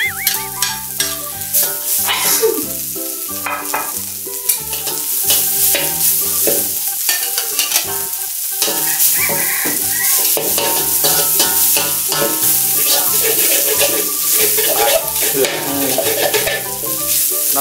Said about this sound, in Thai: น้ำมันของตัวกระชายกับน้ำมันที่เรากำลังผัดที่หอมผสมกันนะครับ